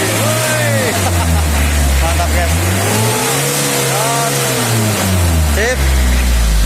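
The 2.3-litre Isuzu Panther diesel engine revs up and down repeatedly during a tune-up, rising and falling in pitch, loud and close, with someone talking briefly over it.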